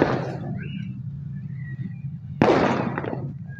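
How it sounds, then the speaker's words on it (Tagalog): Two sharp firecracker or fireworks bangs near a riverside fishing spot on the Angono River, one at the start and a louder one later, each with a crackling tail, over a low outdoor background hum. "Putok ng putok pa rin doon ah."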